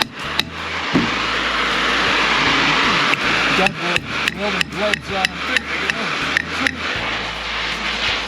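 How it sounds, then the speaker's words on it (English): A run of sharp metallic hammer strikes on a rusted part of a destroyed Ford 5.4-liter engine, some ringing, coming in quick irregular succession after a stretch of steady background hum, with a muffled voice underneath. "I'm going to hit it with a hammer and expand it."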